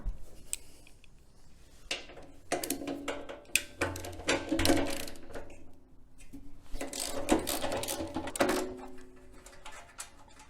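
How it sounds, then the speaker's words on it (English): Bolts are unscrewed from the cover of a Renegade air compressor. Quiet, close ratcheting clicks and metallic rattles come in uneven bursts with short pauses between them. "that's just done by removing the 2 bolts that are down the bottom here"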